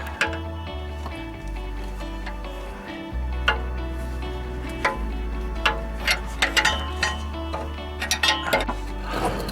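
A ratchet wrench tightens the oxygen sensor on a 2002 Cadillac Escalade. Repeated close, clicking strokes come in bursts that speed up toward the end, over a low steady hum.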